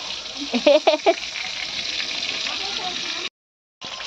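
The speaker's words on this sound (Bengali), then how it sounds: "এই যে মা এখন মাছ ভাজা" Small bata fish frying in hot oil in a pan, a dense, steady sizzling hiss with a few louder spits near the start. It cuts out briefly toward the end, then resumes.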